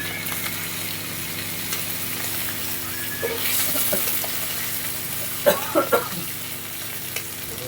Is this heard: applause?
no